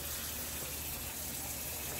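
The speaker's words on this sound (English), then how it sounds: "You hear my water in the background." Tap water runs steadily in a home kitchen, a continuous broadband hiss that is faint and unbroken, with no talk over it.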